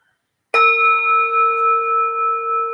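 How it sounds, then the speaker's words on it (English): A meditation bell struck once after a brief silence, a bright clear tone that rings on and slowly wavers as it sustains, alone and fairly loud. "So I'll invite the bell."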